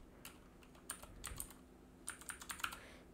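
Keys on a computer keyboard are tapped in two short bursts of quick typing, close and fairly soft, with a pause between them.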